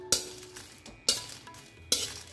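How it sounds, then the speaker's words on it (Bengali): Dry red chillies are roasted in a hot wok without oil. Three sharp scraping clinks of stirring come at roughly even intervals, close and fairly quiet, with near silence between them. "কয়েকটা শুকনো লঙ্কা আমি ভেজে নিচ্ছি"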